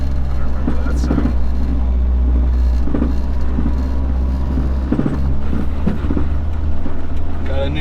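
Honda del Sol with a swapped B20 engine idling with a rough misfire, a steady low rumble close by under scattered voices and faint clunks.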